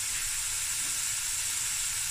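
Tomato bredie ingredients, garlic among them, frying in a pot for a Cape Malay dish, giving a steady, even sizzle and hiss that runs unbroken throughout with no voices.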